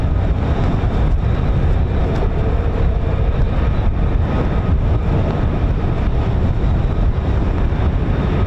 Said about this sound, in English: very windy here at RAF Lakenheath